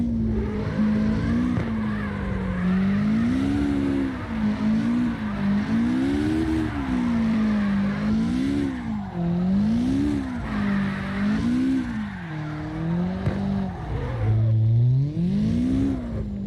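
A car drifts in the CarX Drift Racing Online video game, its engine revving in steady rising and falling waves as the tires squeal through long slides, loud and continuous with no talk.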